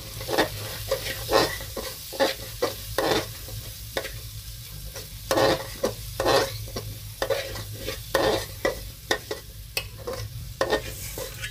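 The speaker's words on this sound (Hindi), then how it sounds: "अब इसको हम चला लेंगे" A spoon stirs cumin powder, turmeric and roasted black pepper in a pot for vegetable khichdi, making repeated close scraping strokes over a soft, steady sizzle.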